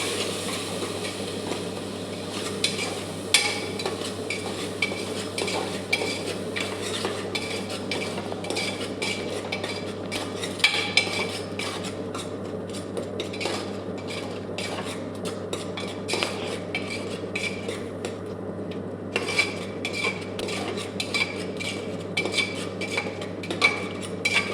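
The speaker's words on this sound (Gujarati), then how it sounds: "હવે બધાને સરસ રીતે મિક્સ કરી લઈશું।" Spices are stirred into lilva toor dal in a pot, with repeated light spoon scrapes and clinks against the metal under a steady low hum, moderately quiet and close.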